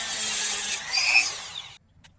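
A small blade or rotary tool grinds through the neck of a plastic Starlord action figure with a continuous, high, whining buzz, close and fairly loud, then cuts off abruptly into near silence.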